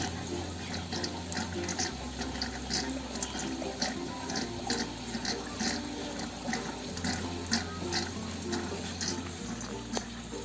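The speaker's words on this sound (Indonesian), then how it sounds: "alirannya nih udah kenceng atau udah deras kayak gini, berarti aliran sirkulasi air juga sudah normal" Strong water flow through an aquarium sump filter's overflow pipe, a steady rushing and splashing hiss that runs continuously at low, even volume with no talk.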